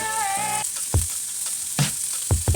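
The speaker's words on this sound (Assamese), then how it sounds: "তাত দিছোঁ কাটি থোৱা কেপচিকামখিনি দি গোটেইখিনি একেলগে লৰাই ভালদৰে অকণমান টাইম ভাজি ল'ব" Chopped capsicum sizzles and fries with spices in a hot pan, a bright steady hiss broken by a few stirring scrapes and clunks, close and loud with no voices.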